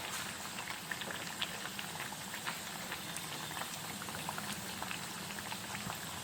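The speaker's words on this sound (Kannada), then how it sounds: "ಈ ಥರ ಎಣ್ಣೆಲಿ ಫ್ರೈ ಮಾಡ್ಕೊಳ್ಬೇಕು" Chana dal vadas deep-frying in hot oil give a steady, dense bubbling with fine crackling pops throughout, close and continuous.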